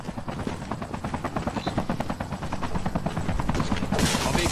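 A helicopter in the video game Call of Duty Mobile makes a loud, steady rotor chop throughout, pulsing rapidly, with a burst of gunfire-like noise at the end.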